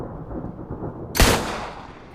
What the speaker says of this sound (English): So with another gunshot going wide,